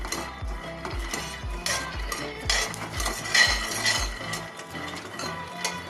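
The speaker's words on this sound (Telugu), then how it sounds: "పల్లీలు బాగా వేగిపోయాయని ఇప్పుడు స్టవ్ ఆఫ్ చేసుకోండి." A spoon scrapes and clinks steadily against a pan as roasting peanuts are stirred on the stove, a rhythmic metallic stirring that is close and fairly loud, with faint sizzling underneath.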